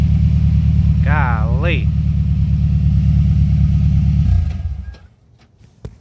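Car engine idling with a deep, steady rumble through a newly installed aftermarket exhaust, loud and close for several seconds before cutting off; someone speaks briefly over it.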